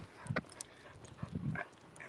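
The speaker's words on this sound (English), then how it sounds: "And the dogs are pulling me." Dogs out on a walk, pulling on the lead, give a few short whimpers and yips close by, scattered across a brief stretch with no one talking.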